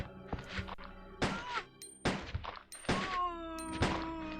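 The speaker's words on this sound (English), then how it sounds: "I was going for an ankle shot and I missed badly." Pistol shots ring out in the 1998 Resident Evil 2, several sharp, separate bangs with a brief ringing tail, spaced unevenly among quieter game thuds.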